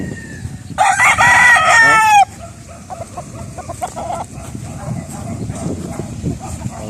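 A rooster crows loudly once close by, then scattered clucks and muffled background noise from a busy yard of fighting roosters continue.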